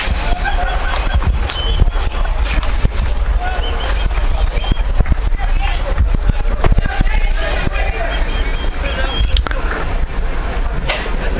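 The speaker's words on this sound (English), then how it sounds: "Wind blowing across the outfield from left to right." Steady wind buffets across a baseball outfield on a very windy day in St. Augustine, Florida, during a college game. It makes a constant low rumble and broadband rush for the whole stretch, with faint crowd babble and scattered knocks underneath.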